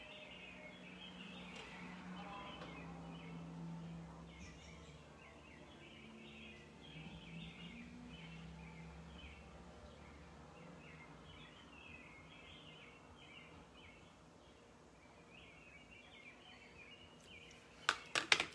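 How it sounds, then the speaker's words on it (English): Birds chirp outdoors in faint, scattered bursts of high tweets over a low, quiet background, with a few sharp knocks close by near the end. "The birds are chirping there too, Nancy."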